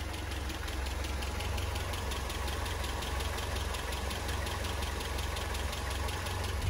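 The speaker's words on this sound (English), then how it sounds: "So I'll just let you listen to the engine tone." A Land Rover Series 3 engine idles warm after its timing was set, a steady low rumble with an even, rhythmic tick running throughout, close and continuous with no talk.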